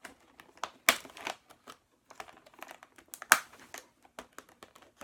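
Plastic zip ties handled and shuffled by hand, giving irregular crinkly clicks and rustles with a few sharper rattling bursts, close and fairly quiet, no talking.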